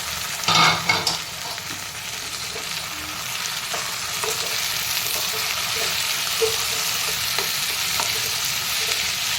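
Tomatoes tossed into frying onions in a pan, with a sharp burst of sizzle as they land, then a steady close hiss of frying with occasional stirring clicks.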